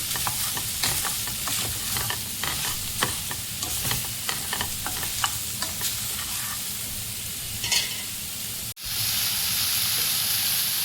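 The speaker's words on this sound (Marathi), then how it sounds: "आपल्याला छान खरपूस भाजून घ्यायचं आहे सोयाबीन" Salted soybeans roast in a pan while being tossed and stirred: a continuous sizzle with rapid, rhythmic scraping strokes up close, then a brief cut followed by a brighter, steadier hiss.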